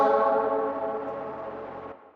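A car horn sample played through heavy reverb in Ableton Live, set to a high wet mix and long decay, sounds as a single sustained tonal blast that slowly fades into a reverberant tail.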